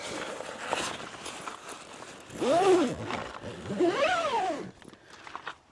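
A zipper runs along the black door of an inflatable caravan awning as it is zipped closed, giving two fairly loud rasping pulls, each about half a second long, with a short pause between them.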